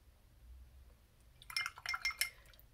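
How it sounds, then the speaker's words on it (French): A paintbrush is rinsed in a small container of water during watercolour painting, giving a cluster of faint, close clinks and light splashy taps against glass after a quiet moment. "Donc je rince mon pinceau"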